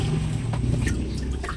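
Water runs steadily and loudly during a bath, a continuous splashing rush with no breaks and no speech.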